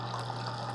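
A Keurig K-Cafe Essentials coffee maker descaling with vinegar pumps water in a steady, continuous gurgling hum with a low motor drone, close and moderately quiet, with no pauses.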